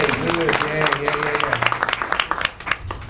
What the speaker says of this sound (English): Everybody give her a hand clap.